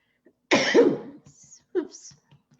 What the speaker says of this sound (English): I'm sorry, have a cough.